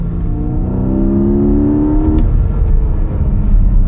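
Porsche sports car engine, a 718 or 911 GTS with four-cylinder option, accelerating with a steady rising drone and harmonic whine for about two seconds, then easing off into a rougher rumble.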